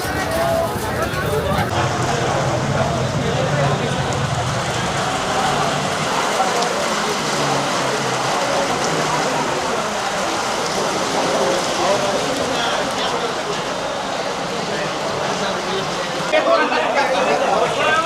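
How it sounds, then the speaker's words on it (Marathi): Hail falling outdoors, a dense, steady patter of ice pellets striking surfaces throughout, fairly close and continuous, with people talking over it at times. "मित्रांनो पाहू शकता गारा पडायला."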